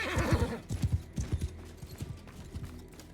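A horse in the game Mount & Blade II: Bannerlord rears with a loud, close whinny, then its hooves clip-clop several times, fading slightly, with no talk over it.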